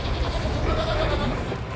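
Goats bleat inside a stable under construction on an Alaskan homestead, a drawn-out wavering cry close by over a dense, noisy background.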